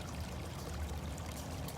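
A big cat named Cali splashes and plays in her water at a rescue sanctuary, a steady close pouring, trickling wash of water running throughout.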